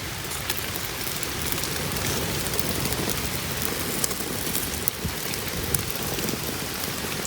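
Rain patters steadily on a waterproof shelter on a sand dune, a dense even hiss with occasional sharper drops striking close by, no voices.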